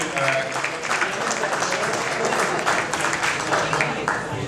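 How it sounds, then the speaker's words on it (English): Audience applause honoring alumni marking 50 years since graduating, a steady, dense wash of clapping from a crowd that continues evenly without breaks. "A round of applause to all of them."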